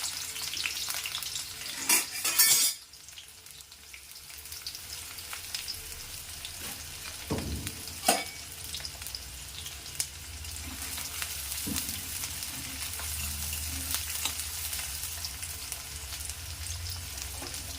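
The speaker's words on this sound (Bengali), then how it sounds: "পেঁয়াজটা একটু লাল করে ভেজে নেব।" Onions hit hot oil after whole spices are tempered for a Bengali drumstick, potato and poppy seed dish, and they sizzle and crackle steadily and close by, with a few sharp clatters of a spoon stirring the pan.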